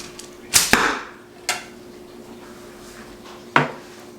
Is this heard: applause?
no